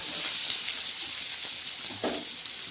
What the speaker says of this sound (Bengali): ওই সরষা তেলের মধ্যে পেঁপেটা দিয়ে ভালোভাবে লালচে করে ভেজে নিতে হবে